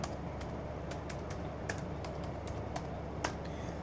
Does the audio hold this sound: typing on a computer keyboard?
yes